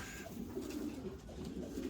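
Low, rolling pigeon coos repeat steadily under a faint background, soft and close.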